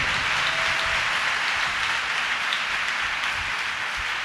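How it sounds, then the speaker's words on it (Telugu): A church congregation at a Good Friday service applauds loudly, a dense, sustained roar of clapping that fills the whole stretch without pause. "కొట్టండి ఒక మంచి చప్పట్లు"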